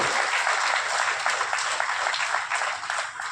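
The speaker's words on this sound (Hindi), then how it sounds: "कृपया पुणे जान जोरदार तालियों से हमारे जवान साथी का अभिनंदन करें।" Ceremony audience applauding loudly, a thick, sustained roar of many hands clapping that holds steady for several seconds before easing slightly near the end.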